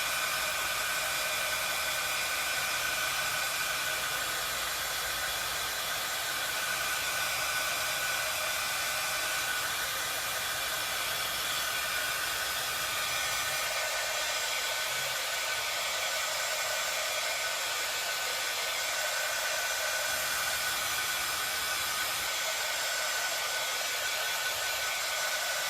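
A hair dryer blows steadily on a stencil, drying both sides with a constant close, loud whooshing hiss that runs alone for the whole stretch with no talk.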